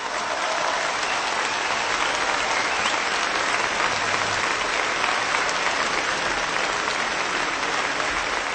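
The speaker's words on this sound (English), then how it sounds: "First we heard music, then clapping." A concert audience claps in a dense, steady burst of applause that holds at an even, loud level for the whole stretch, with no voices standing out.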